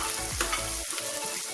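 Sizzling of a small onion with crushed ginger and garlic frying in oil in a pan, a steady close hiss with a couple of brief stirring scrapes and no talking.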